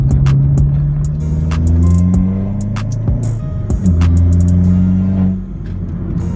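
Vauxhall VXR with a modified loud exhaust pulling hard in third gear, a close, loud droning engine note rising in pitch through the rev range, with a brief gear-change dip before climbing again.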